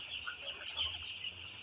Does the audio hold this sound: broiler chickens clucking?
yes